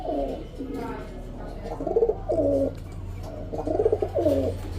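Caged pigeons give repeated deep, burbling coos in short rhythmic bursts, loud and near, with a low hum underneath.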